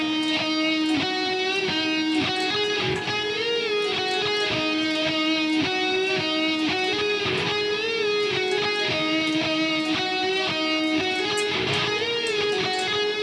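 An electric or acoustic guitar plays a minor pentatonic lick three times in a row, steady plucked notes with bends ringing out loud and close, with no talking.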